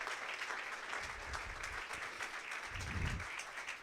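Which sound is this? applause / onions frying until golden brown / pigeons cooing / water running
applause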